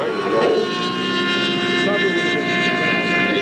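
Radio-controlled scale airplane, a little larger than quarter scale, powered by an OS 160 twin engine, droning steadily overhead in flight with a continuous buzzing engine tone and voices under it.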